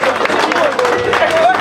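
Wedding guests at a customary wedding in Paris applauding, a short, dense burst of crowd clapping and cheering with voices over it, loud and close.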